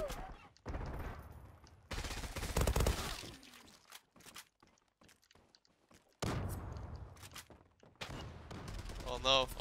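Sniper rifle and other gunfire in the online shooter Zula during a competitive match, arriving as sharp bursts and single cracks separated by quiet gaps, with scattered thuds and footsteps.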